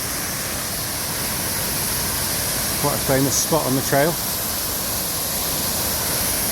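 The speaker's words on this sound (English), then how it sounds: "we just took our first side trail down to Long Creek Falls" Long Creek Falls, a waterfall on the Appalachian Trail, gives a steady, loud rush of falling water that fills the whole clip, with a person talking briefly over it partway through.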